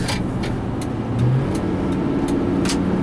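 A 2004 Ford F-150 four-door pickup drives and turns, giving a steady, continuous rumble of engine and road noise heard from inside the cab, with a brief rise in engine tone partway through.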